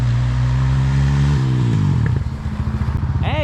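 A Honda TRX250X ATV launches from a standing start, its loud engine note rising through gear changes, then dropping into a choppy, pulsing idle-like rumble as it settles, with a faint high whine at the end.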